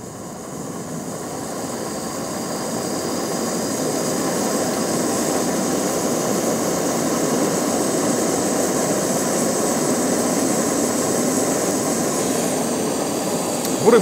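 A Tramp TRG-044 folding camping gas burner runs on its minimum setting with a steady, close, breathy roar of flame that slowly grows a little louder over fourteen seconds. There is no talk over it.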